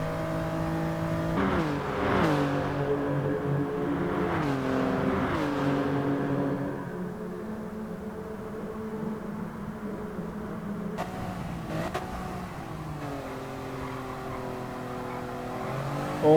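Toyota Yaris race car engine in a racing video game, revving and shifting through rising and falling pitch sweeps, steady and close, with a few sharp gear-change blips near the end.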